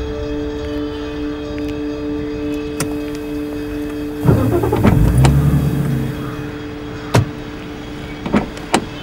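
A car on a street, with a steady engine hum throughout, a louder surge of engine noise in the middle as it pulls away, and a few sharp clicks and thumps toward the end; no talking.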